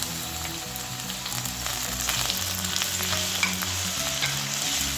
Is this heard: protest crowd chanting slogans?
no